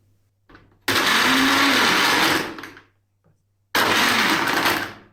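A blender mixing a mint margarita runs loudly in two bursts, whirring for about two seconds, stopping briefly, then starting again; a short whir and tap come before.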